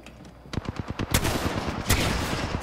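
Rapid bursts of automatic gunfire from an Apex Legends firefight, sharp repeated shots building into a dense, loud volley that keeps going to the end, with no talking over it.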